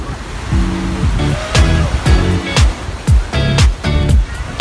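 Sea waves wash onto a beach in a steady, broad hiss of surf. Over it come repeated short tonal bursts, likely voices, close and fairly loud.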